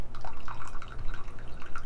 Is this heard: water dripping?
yes